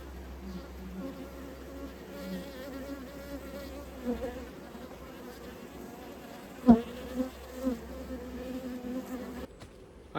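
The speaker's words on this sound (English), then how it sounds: "Look at all the other bees." Honey bees hum steadily around a backyard beehive as a mated queen returns, a soft continuous buzz close by with a few brief louder passes, and no voices.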